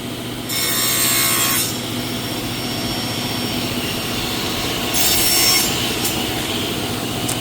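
A saw cuts through wood while cabinet face frame pieces are trimmed, making two bursts of harsh, rasping cutting noise over a steady machine hum, close and loud, with no voices.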